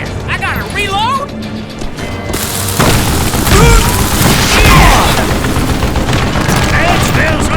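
Dynamite blasts in the Western shooter Call of Juarez: Gunslinger, loud booming explosions with crashing debris amid ongoing game noise and gunfire, and a voice talking over the top.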